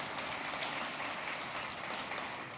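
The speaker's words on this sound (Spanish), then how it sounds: "vale el aplauso" Steady applause fills an auditorium at an economics panel, a dense even wash of many hands clapping, moderately distant, with no talking over it.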